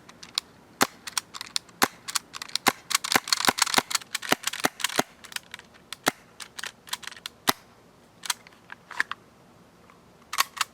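Novritsch SSX-23 gas airsoft pistol fired with a short cut-down suppressor, a long string of sharp, quiet snapping shots, rapid and clustered at first, then sparser and irregular, close with no voices.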